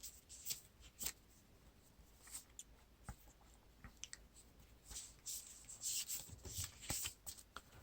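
Cards being drawn and handled in a Lord of the Rings living card game session: soft, quiet papery slides and flicks in irregular bursts, with several sharper snaps near the end and no talk.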